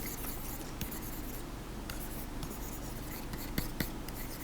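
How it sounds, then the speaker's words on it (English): Writing on a board is erased with soft, continuous rubbing and scrubbing, faint and close, punctuated by a few light taps. "Now let me erase this because I need some space."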